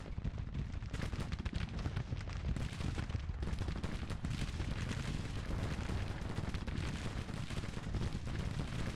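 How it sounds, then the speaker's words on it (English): Cannon artillery thunders through a Civil War battle in the strategy game Grand Tactician, with dense, overlapping booms and crackling gunfire rolling continuously at high volume. "We can let our cannons do a bit of work."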